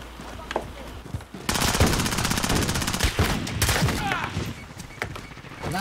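Sustained automatic gunfire in a shooting video game, a dense rattling burst that starts abruptly and continues with scattered thuds, loud and close, with a voice faintly underneath.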